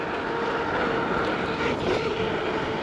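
A Gotrax GX1 electric scooter cruises fast along an off-road trail, giving a steady, loud rush of wind and motor whir with no breaks.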